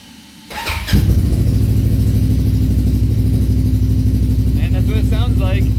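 A Polaris RZR RS1 side-by-side fitted with an aftermarket exhaust and Stage 2 tune cranks and fires, then runs loud and steady close by, with a brief voice near the end.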